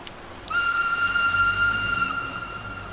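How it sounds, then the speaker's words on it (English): A steam engine whistle blows one long, steady, piercing note lasting about a second and a half, with a soft hiss of steam around it, loud and close, and no voices. "It was the magical engine's whistle."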